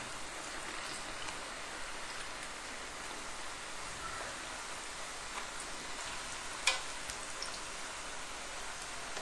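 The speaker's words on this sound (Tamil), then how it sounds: "இது நல்லா பொன்னிறமா வர அளவுக்கு நீங்க எண்ணெயில போடுங்க" Pattinam pakoda, a tea-shop style fritter, deep frying in hot oil: a steady, even crackle and hiss runs throughout with one brief sharper pop, and no talk.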